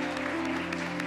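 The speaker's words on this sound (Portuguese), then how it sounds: "Pode aplaudir, aplauda ao nosso Deus" Congregation applauding during a church worship service, a steady wash of many hands clapping over sustained music tones, fairly loud and close.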